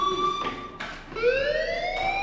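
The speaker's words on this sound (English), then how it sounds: "Hey, do you hear that fire alarm?" An alarm sounds inside the video game Life Is Strange, a steady electronic tone with rising, wailing sweeps, loud and continuous with no talk over it.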